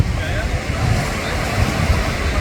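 Sea waves washing onto a sunny beach, a steady close roar of surf with wind buffeting the microphone, continuous and loud throughout.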